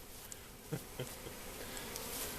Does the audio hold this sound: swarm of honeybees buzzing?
yes